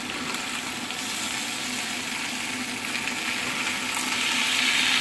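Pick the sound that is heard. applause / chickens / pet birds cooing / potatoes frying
potatoes frying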